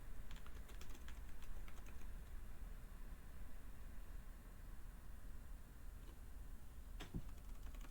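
Steady typing on a computer keyboard during a programming session, faint and close, with quick irregular key clicks running over a constant background hiss and no talking.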